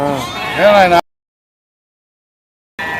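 A single loud, wavering sheep bleat up close at the Gudur livestock market, followed by a stretch of silence and then faint background sound.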